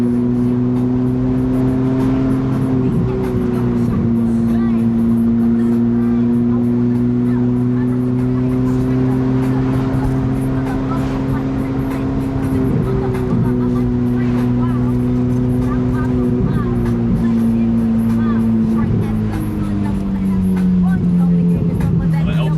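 A Ferrari 488 drives along a seaside esplanade toward a roundabout, its engine droning steadily with a few shifts in pitch and occasional throttle changes, heard from inside the car while people talk over it throughout.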